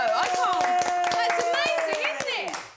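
Family members clap their hands in praise of a young child at mealtime, a run of sharp, fairly close claps mixed with excited talking and a voice throughout.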